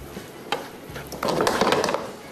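Bihari mutton qeema with onions stirred in a pan, a few scraping knocks followed by a denser burst of sizzling, scraping stirring noise, close and moderately loud.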